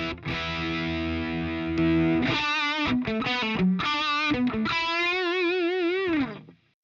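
An electric guitar plays through a boost pedal with its volume turned low, a few distorted sustained notes and bends ringing close with no talking.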